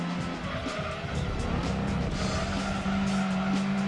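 Racing car engine in the video game Gran Turismo 2 drones steadily while tires squeal and skid as the car oversteers through a corner, a continuous whine with no talking.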